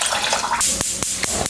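Water splashes and gurgles as two cups are poured into a pot for strawberry lemonade syrup, a short close pour with a few soft clinks.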